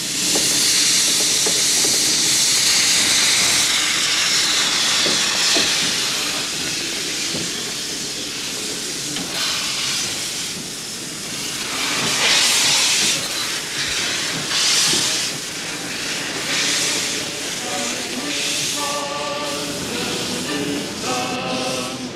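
A steam train pulls away from a station with loud continuous hissing steam, chuffing surges and faint clanking of railway cars, close by and dominating, with no voices.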